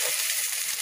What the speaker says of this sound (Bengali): একটু জিরে গুঁড়ো। এবার ভালো করে কষুন।